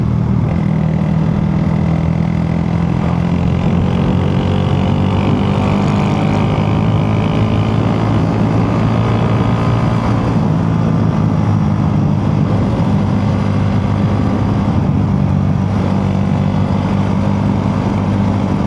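A Honda Wave 125 Fi motorcycle cruising at low speed with a passenger aboard gives a loud, steady engine drone with a low, even hum throughout and no talking.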